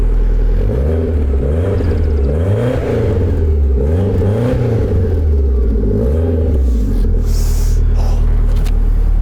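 An Alfa Romeo 155 Q4 engine revs repeatedly on a cold start in rising and falling bursts, a loud, deep rumbling idle between throttle blips, close by with no talking.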